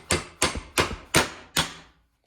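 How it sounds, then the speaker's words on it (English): Hammer tapping a part onto the hydraulic linkage of a Farmall 300 tractor under restoration: five sharp metallic strikes at a steady, slightly slowing pace, close and loud, with no talking. "You might need a hammer to tap it with."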